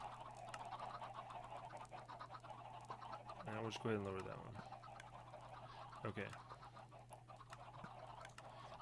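Chickens in an automatic chicken farm in the video game Minecraft give short clucking bursts, one cluster in the middle and a brief one later, under a voice talking.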